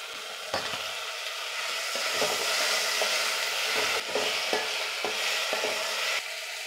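Dry fish goes into a pot of Nellore fish curry, raising a continuous sizzle and bubbling with repeated scraping stir strokes, close and steady, with no voices.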